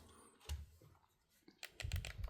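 Clicky game controller buttons pressed in quick bursts, close up: a few isolated clicks followed by a dense cluster of rapid presses near the end, with no talking.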